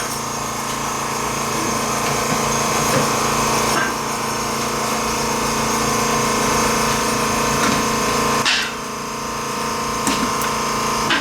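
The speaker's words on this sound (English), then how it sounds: "while the compressor's pumping up" An air compressor runs loudly nearby while inflating a rubber tire after an alloy valve replacement, a steady buzzing drone with a brief dip near the end and no speech.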